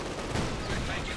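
Rocket fire from a flak half-track during a Company of Heroes 2 battle, a dense roaring blast of launching and explosive noise filling the whole moment, loud and continuous with no clear pauses.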